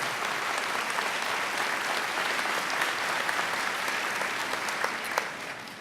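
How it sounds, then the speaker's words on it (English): Sustained loud applause from a large audience at a graduation ceremony, steady clapping filling the whole stretch with no talking over it. "Let's give them all one more round of applause and thank them."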